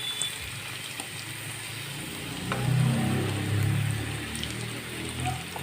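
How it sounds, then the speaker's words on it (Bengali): Semolina snacks fry in hot oil in a wok, a steady, close sizzle and crackle that swells louder in the middle as the pieces are turned, with no talking. "এবার বন্ধুরা দেখুন উল্টে পাল্টে ভেজে নেব"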